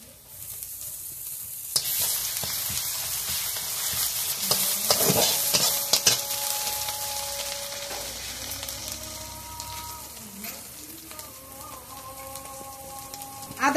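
Garlic paste sizzles with softened chopped onion in hot oil in a Bengali home kitchen, a continuous close frying hiss broken by spoon stirring and scraping, with some clinks and tones toward the end.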